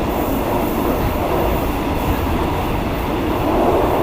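Steady, loud rumble from inside a fast-moving, nearly empty metre-gauge passenger train in Thailand, with constant wheel and carriage noise and no break.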